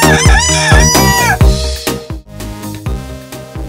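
A rooster crows twice in quick succession, loud and close, over steady background music.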